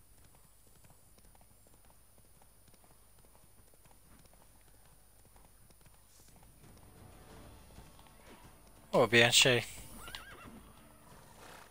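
A horse in The Witcher 3: Blood and Wine gives a loud, sharp whinny late in the clip, after a stretch of quiet ambience and faint hoof steps, with a brief spoken remark nearby.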